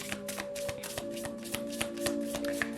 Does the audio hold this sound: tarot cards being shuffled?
yes